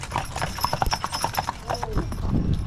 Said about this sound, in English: Show you how these horses hook up and drive single.